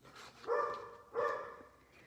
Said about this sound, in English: I can't yell at him to stop barking because then all you'll hear is me yelling at him